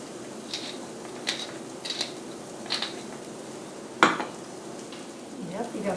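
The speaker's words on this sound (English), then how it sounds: "Yep, you got boiling in there." A pot boils on a stove while a wartime-style beef and polenta dish cooks, giving a steady bubbling sizzle with occasional clinks of utensils against the pan.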